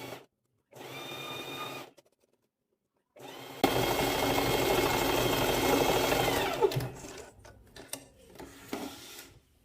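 A sewing machine stitches swimwear fabric on a plus-size bikini bottom, running in a short burst, pausing, then a longer steady whirring run before slowing into scattered clicks and handling noises close by.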